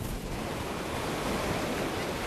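Sea waves washing onto the shore at a small seaside village in Hatay, Turkey, a steady close surf roar mixed with wind noise on the microphone, with no voices.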